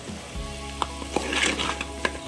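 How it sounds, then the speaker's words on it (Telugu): Crabs fry in a pan for a Telangana-style crab curry, giving a steady close sizzle with crackles and a few sharp pops, under a low hum. "చూడండి ఫ్రెండ్స్, చాలా బాగా ఫ్రై అయ్యాయి పీతలు"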